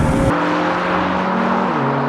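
A Mercedes A45 hatchback accelerates hard on a race track, its engine a loud, steady roar with a rising tone and a gear shift just after the start.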